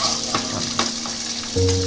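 Paneer cubes fry in oil in a pan over a low gas flame, making a continuous close sizzle with light crackles and stirring clicks. A brief scrape sounds near the end as pieces are lifted out.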